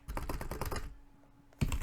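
Quick, close bursts of key clicks from typing on a computer keyboard, a short pause, then another brisk flurry of keystrokes.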